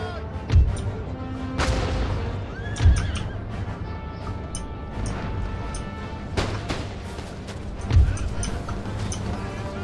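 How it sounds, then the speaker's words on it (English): Horses neigh and whinny repeatedly during a cavalry battle in Empire: Total War, with clip-clop hooves, occasional thuds and distant gunfire in a busy battlefield mix. "We had to send the cavalry out to the flank to help out"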